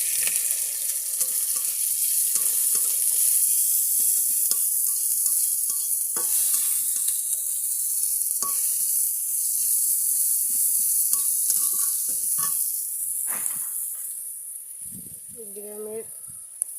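Chopped onion fries in hot oil with a bright, continuous close sizzle and occasional stirring scrapes, and a voice briefly speaks near the end.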